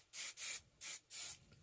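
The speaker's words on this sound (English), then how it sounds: "And then you can always add hairspray to it." Hairspray is sprayed onto hair from an aerosol can in four short hissing bursts, evenly spaced, close and fairly quiet, with no talking.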